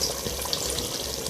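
Fish sizzles steadily in hot mustard oil in a pan, a soft continuous crackle with faint clinks, close by and with no talk.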